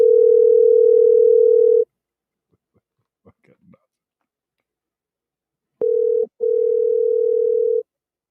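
Phone call ringing before going to voicemail: a loud steady electronic ring tone, a few seconds of near silence with faint clicks, then a second tone with a brief break, heard clearly and alone.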